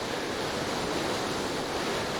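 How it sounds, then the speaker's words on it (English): Ocean waves in the VR Regatta sailing video game on Arctic seas, a continuous broadband wash of surf with steady rushing noise and no distinct breaks, fairly loud and with no talking. "We can just enjoy the wonderful sounds of the ocean."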